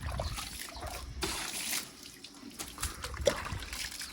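Water poured from a bucket onto a car splashes and trickles in a steady, moderately quiet wash, with brief louder gushes as it is poured out.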